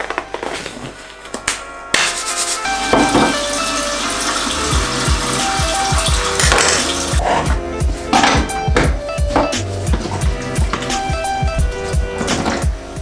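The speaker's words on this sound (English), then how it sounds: "I will just put 20-degree warm water into the tank and rotate it for a couple of times" Warm water poured from a tap into a film developing tank, a running gush with knocks and clatter of the tank and plastic parts, splashy and close, no talk.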